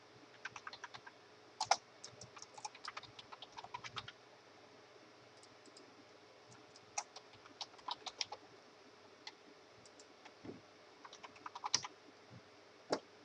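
Rapid bursts of typing on a computer keyboard while filling in an online form, irregular clusters of light clicks with short pauses, close and quiet against a faint steady hum.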